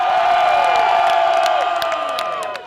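A large crowd of enthusiastic fans packs a popular downtown spot to celebrate Austin FC, the new Major League Soccer club, with loud continuous cheering, whoops and shouts that taper slightly at the end.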